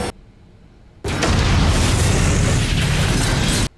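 A loud, sustained explosion roars for nearly three seconds in a Fallout episode, a broad deep rumble that starts abruptly after a quiet lead-in and cuts off sharply.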